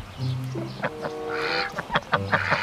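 A goose honks repeatedly at close range, with several loud nasal calls broken by short pauses and no speech over them.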